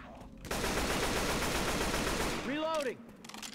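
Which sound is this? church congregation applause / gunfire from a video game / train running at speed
gunfire from a video game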